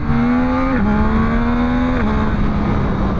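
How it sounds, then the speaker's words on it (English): A 2024 Yamaha MT-09 motorcycle engine revs high in a sustained, loud drone, its pitch stepping down briefly at two gear changes while riding. "even though I'm revving this thing pretty high"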